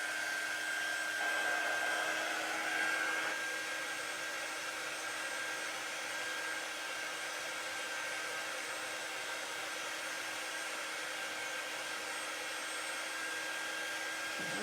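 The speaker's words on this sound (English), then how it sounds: "I'm just blow drying that a little bit so I can get it out of the way." A hair dryer blows steadily and close up over a craft kit, a continuous even whir with a faint high whine that runs alone without pause.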